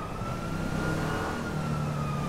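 Police car siren wails steadily in Grand Theft Auto V with a chaos mod, a continuous tone loud and close over a rumbling engine and road noise, with no talking.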